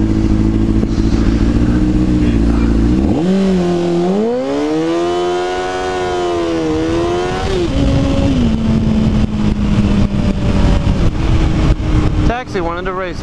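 A motorcycle revs hard and accelerates through the gears, its engine note sweeping up and dropping with each shift, close and loud, with traffic noise around while racing a taxi.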